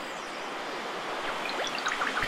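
Rushing river water in Paper Mario: The Origami King, a steady broadband wash with small bright splashes and chirps near the end, continuous and alone.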